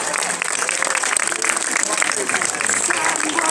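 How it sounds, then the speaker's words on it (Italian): Audience applause at an Italian medieval mace-and-shield combat demonstration, a steady dense patter of many hands that holds evenly for the whole stretch. "Facciamogli un applauso"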